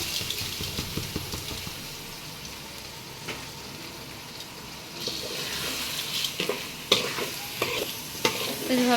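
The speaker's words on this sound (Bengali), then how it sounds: "ভালো করে চালটা ভেজে নিতে" Rice for pulao frying in a pot makes a continuous, moderately loud sizzle with occasional scraping stirs and soft clinks, close by and with no one talking.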